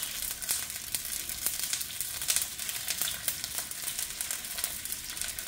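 Sausage fries in a pan with a constant crackling sizzle and scattered small pops, moderately quiet and steady with no voices.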